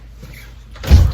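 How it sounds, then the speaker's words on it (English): A house front door opens with a short scrape and thud that swells near the end, close and fairly loud, following a quiet stretch. "Open the front door."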